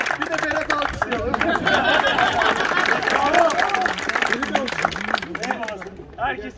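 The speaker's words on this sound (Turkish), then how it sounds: "Bir de Berat alkışlayalım." An audience at a live event gives a sustained round of applause, mixed with crowd chatter and a voice talking over the clapping, easing off toward the end.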